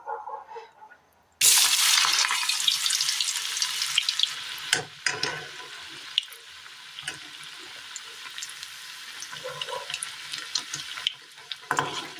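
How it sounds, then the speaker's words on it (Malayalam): Bajji batter dropped into hot oil in a pan for a Kerala recipe: a sudden loud burst of sizzling that settles into a steady crackling fry with scattered pops and small handling clicks, with no talking. "എണ്ണ നന്നായി ഒന്ന് ചൂടായി വരുമ്പോൾ ഇതിലേക്ക് ഈ കൂട്ട് വെച്ച് കൊടുക്കാം."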